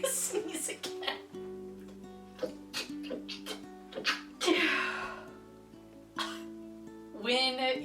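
A single sharp sneeze from a woman, set among her own speech with soft background music running throughout.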